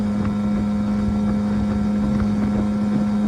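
Small tiller-steered motorboat with an 11-pitch propeller cruising at about 23 mph, a loud steady outboard drone with constant wind and water rush throughout.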